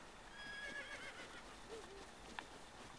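A horse whinnies in the video game Zelda: Breath of the Wild, a bright, fairly quiet neigh with faint hoof clip-clops beneath it and a low game ambience.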